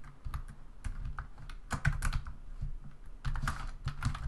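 Typing on a computer keyboard comes as irregular bursts of close, crisp key clicks with short pauses between groups of keystrokes, heard alone without talking.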